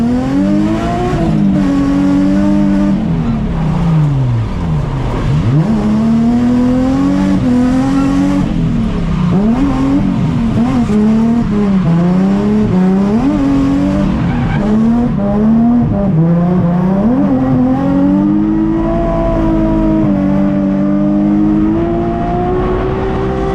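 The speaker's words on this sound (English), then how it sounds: "Driving in the rain in an abandoned factory." A drift car being driven hard in the rain inside an abandoned factory, with the engine loud and close, revving up and down in repeated swoops and tire squeal during the slides.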